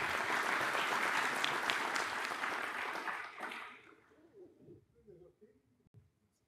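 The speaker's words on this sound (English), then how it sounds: "Please give them a round of applause." Audience applause at a technical conference talk on k-anonymization, a dense, steady burst of clapping that lasts about three seconds before quickly fading into quiet room noise with a few faint stray sounds.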